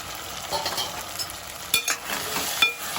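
A vegetable mixture cooks in a covered pot on the stove, giving a steady hissing, bubbling sizzle with a few soft clinks and stirs, close and continuous without voices.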